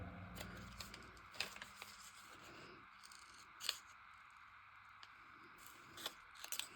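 Scissors snip paper for a collage in a quiet room, with faint, scattered crisp cuts and small rustles at irregular intervals.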